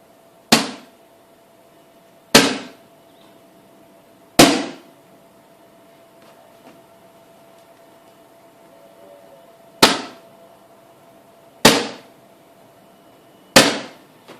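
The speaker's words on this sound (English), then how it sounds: "hitting the polycarbonate with the hammer and then a lump hammer if necessary" A hammer strikes a polycarbonate sheet in loud, sharp, isolated impacts, six in all at irregular intervals, each with a short ringing decay, and silence between them.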